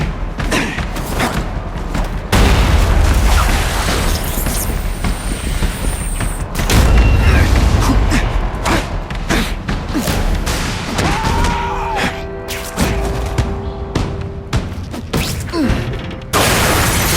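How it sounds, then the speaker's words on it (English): A seismic blast explodes in The Amazing Spider-Man 2 game on PS3, a loud booming, thudding burst of impacts and debris that comes in waves over a continuous rumbling din, with shattering crashes and no voices. "Well, more of a seismic blast, really."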